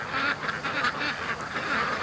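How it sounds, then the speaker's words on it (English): Several ducks in a backyard flock quack in a dense, continuous chatter, a steady overlapping din of calls at moderate loudness, with no talking. "Happy ducks."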